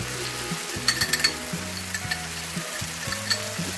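Sambar masala of coriander, sambar and chilli powders sizzles steadily in a hot pan for Vishu sambar, with scraping stir strokes and a few sharp clinks of a spoon against the pan near the middle; no one talks.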